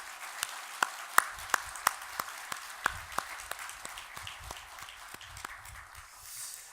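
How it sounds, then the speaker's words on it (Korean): A congregation at a church worship service claps in a slow, sparse rhythm, individual claps ringing out distinctly in a reverberant hall. "박수를 올려드리겠습니다."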